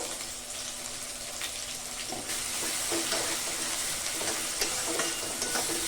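Chopped onions fry with salt in a pan for echor kosha, a dense steady sizzle that grows louder partway through, with light crackles and stirring scrapes close by and no voices.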